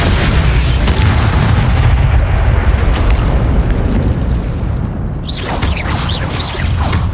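Bombarda spell explosions from the Hogwarts Legacy video game, loud booming blasts with a dense roaring rumble throughout and sharp bursting crackles near the end.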